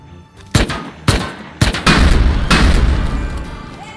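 Gunfire in the game Rust aimed at a landmine: two sharp loud shots followed by a heavier blast and another burst, booming close up with a long rumbling tail.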